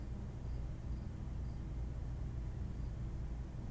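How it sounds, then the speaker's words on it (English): Crickets chirping at night, a faint, steady insect buzz running continuously beneath a low broadband hiss, with no voices. "I can tell that you can hear the crickets"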